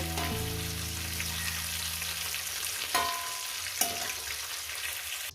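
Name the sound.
cauliflower frying in a pan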